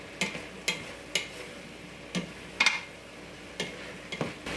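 Onions, celery and garlic cooking in a pan, a soft sizzle under repeated spoon scrapes and taps against the pan at a steady stirring rhythm, close, with no talk.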